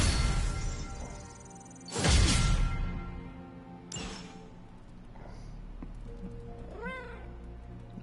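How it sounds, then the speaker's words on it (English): Cat in Marvel Midnight Suns meowing softly near the end, a short rising-and-falling call following two sharp crashing whooshes and a low ambient hum. "Oh, I hear a kitty."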